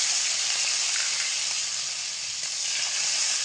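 Chopped tomato, black cumin and slit green chillies hit hot oil, giving a continuous loud hissing sizzle, close and unbroken, with no talking.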